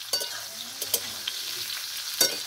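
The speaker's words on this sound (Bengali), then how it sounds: "ফুলকপি ভাজা জোর কদমে চলছে, তোমরা দেখতে থাকো" Cauliflower frying in a pan makes a close, steady sizzle, with several sharp spatula clicks and scrapes at uneven intervals and no voices.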